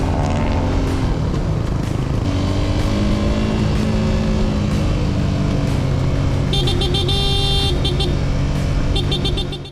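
A motorcycle horn sounds in short repeated bursts during a ride on the road between Quirino and Cervantes, Ilocos Sur, over a steady, loud engine drone and wind rush.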